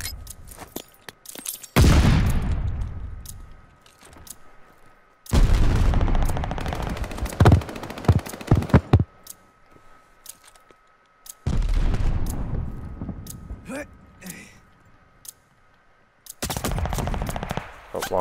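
Grenade blasts and heavy gunfire at the bomb site in Call of Duty Vanguard ranked play come in several loud, booming bursts with rapid shots, separated by quieter gaps.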